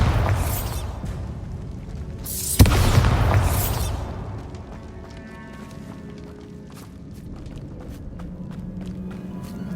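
Bombarda explosion spell in Hogwarts Legacy: one sudden loud blast with a booming low rumble that fades over about a second, followed by footsteps and quiet game ambience.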